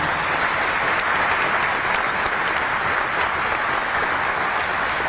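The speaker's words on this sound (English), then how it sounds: "Another big round of applause" Sustained, dense applause from a large audience at a base's state-of-the-base address fills the whole stretch, loud and steady without letup.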